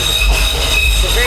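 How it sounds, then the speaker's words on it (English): A driverless Docklands Light Railway train rolls along its rails toward Lewisham, a loud steady rumble with faint wheel squeal throughout, heard from inside the carriage. "This is another DLR. Driverless train. Docklands Light Railway Service."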